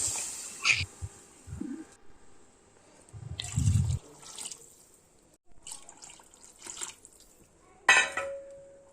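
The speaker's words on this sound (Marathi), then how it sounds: "गरम पाणी घालते मी इथे" Hot water splashes and pours into a pan of chickpea curry on a wood-fired stove in a few short bursts, with clinks of metal and pauses between pours.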